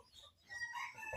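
Two chickens clucking briefly and faintly nearby, short soft calls in a quiet setting.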